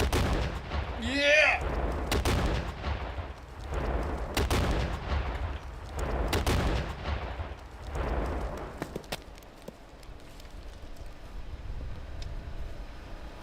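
Loud outdoor gunfire: a string of heavy booming shots at irregular intervals, each with a sharp crack and rolling low echo, fading toward the end, with an excited shout early on.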